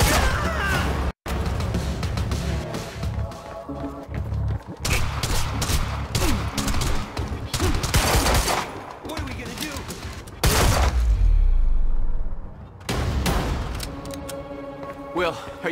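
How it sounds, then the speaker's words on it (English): Gunfire in the video game Quantum Break: dense bursts of shots and impacts crackling over several seconds, loud and close, with character voices shouting amid the firefight. "Then stop fucking shooting at us!"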